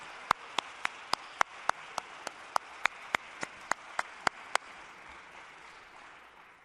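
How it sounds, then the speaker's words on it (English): Applause at a Stevenson University athletics Hall of Fame ceremony: a run of sharp, evenly spaced claps close by over a broad wash of crowd clapping, which fades out after about four and a half seconds. "Please join me in another round of applause for these greats of Villa Julie and Stevenson Athletics."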